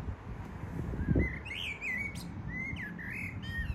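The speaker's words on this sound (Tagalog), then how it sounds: "Narinig nyo guys yung blackbird?" A blackbird sings in summer outdoors, its clear fluting phrases and chirps rising over low background rumble, with a dull thump early on.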